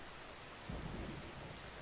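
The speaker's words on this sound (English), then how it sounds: "The rain went on against the window." Steady rain beats against a window during a storm at a Cape Hatteras lighthouse, a dense, even hiss that swells into a heavier low rumble midway through, with no voices.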